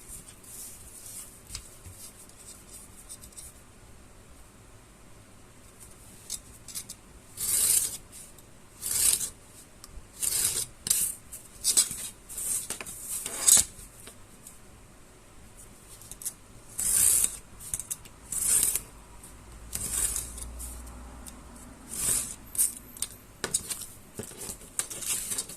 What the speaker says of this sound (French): ok, on coupe.